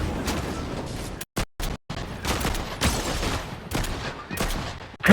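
Rapid bursts of gunfire from a weapon in the video game Fortnite, loud and dense, with brief gaps of silence between volleys and a final sharp shot at the end.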